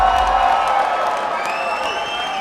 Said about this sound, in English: how about a round of applause for both of these kickboxers